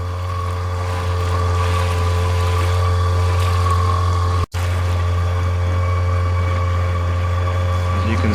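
Trailer sailer cruising under outboard motor at about 5.5 knots in Shoalwater Bay, a steady loud low drone with water rush, continuous apart from one brief dropout.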